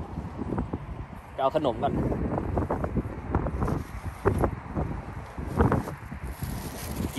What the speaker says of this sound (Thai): ลมเย็นก็จริงเย็นสบายแต่ว่าแรงไป